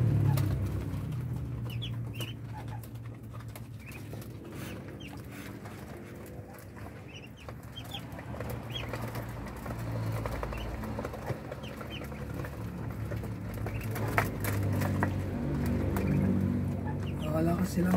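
Muscovy ducklings feed on a farm amid continuous soft peeping and chirping, with clucks and coos from other poultry nearby and a steady outdoor background.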